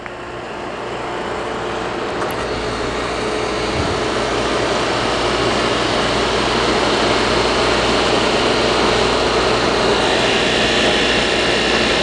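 A YES 6112 Vapor Prime Oven purges its chamber with nitrogen, a steady broadband rushing hiss with a low hum that swells over the first seconds and then holds constant, with no talk.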